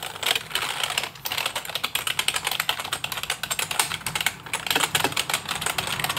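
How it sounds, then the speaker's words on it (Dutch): Fingers type fast on an RGB computer keyboard in a streaming room setup, a close run of crisp, irregular key clicks and clacks with brief pauses, loud and alone. "Dit toetsenbord. Klein beetje ASMR voor you guys."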